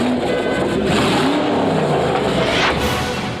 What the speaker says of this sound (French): Un gros V8 qui provoque un cataclysme à chaque démarrage.